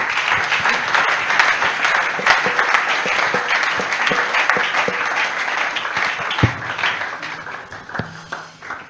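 A church congregation claps and applauds in praise during a worship service, a dense, steady wash of hand claps sustained throughout with faint voices mixed in underneath.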